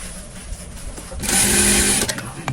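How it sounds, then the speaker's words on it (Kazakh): A sewing machine runs a long straight seam on a dress, about 1 cm from the edge, with a steady fast whirring hum that gets louder and denser midway and then stops. "осы жерден тігісті үлкен шовқа қоясыз да, үлкен шовта 1 сантиметр қылып тігіп шығасыз"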